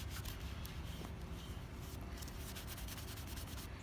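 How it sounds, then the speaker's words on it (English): Paper towel rubs paint over a pot to give it an aged finish, producing a faint, soft and continuous scrubbing rasp with small rhythmic strokes, close and quiet. "get another side of my paper towel that's a little dry and just rub it all over"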